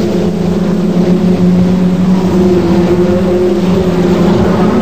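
A Ford Sierra RS500 touring car races flat out around Brands Hatch at about 135 mph, its engine a loud, sustained roar.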